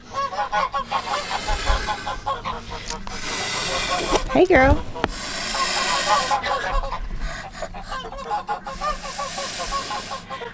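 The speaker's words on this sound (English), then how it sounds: "So I've got 2 geese sitting on pretty large clutches of eggs in there" Nesting geese sitting on large clutches of eggs honk loudly and repeatedly, with one especially harsh burst midway, while a person speaks nearby.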